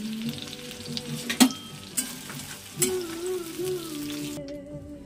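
Prawns fry in a pan with a steady crackling sizzle, punctuated by a few sharp clinks and scrapes of stirring, with faint tonal background sounds underneath.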